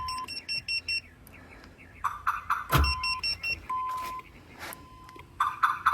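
Power door locks on an older 1980s–90s GM car clunk as they actuate, a few sharp mechanical thumps standing out amid repeated beeping and background workshop noise.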